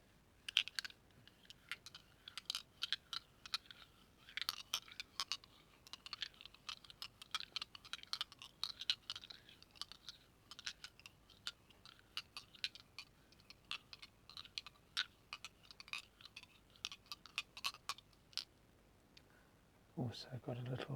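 Crystals handled close for ASMR, with a long run of small irregular clicks and taps as stones knock together, and a soft voice speaking over part of it.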